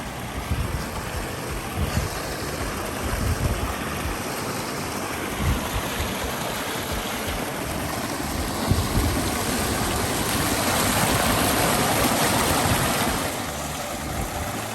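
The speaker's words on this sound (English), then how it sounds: "I hear the waterfall." A waterfall along Kitchen Creek Trail in the San Diego backcountry gives a steady, broad rushing roar that holds constant throughout and swells slightly near the end, with no voices over it.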